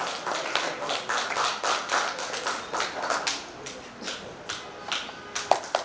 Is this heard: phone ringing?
no